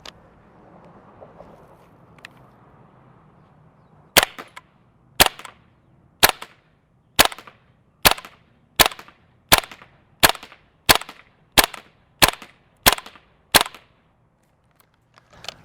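A GHK G5 gas blowback airsoft rifle with roller lock fires BBs outdoors on a warm day: after a few seconds of quiet ambience, twelve sharp, loud single shots ring out in a steady, roughly once-per-second rhythm.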